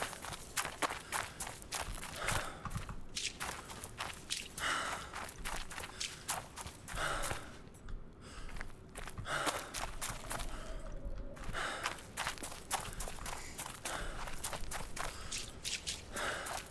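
Heavy stomping footsteps thud in a steady, repeated rhythm in a video game, loud and close, with short breaks and rough breathing mixed in.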